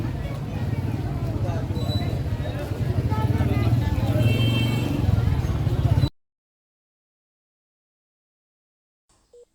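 Motorbikes and cars crowd the narrow bazaar streets of Lahore's old walled city, a dense, continuous roar of engines with crowd babble underneath, cutting abruptly to near silence after about six seconds.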